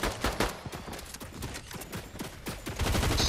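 Dense bursts of gunfire from snipers in the video game Fortnite crackle in rapid clusters, loud and close, with a brief voice heard faintly under the shots.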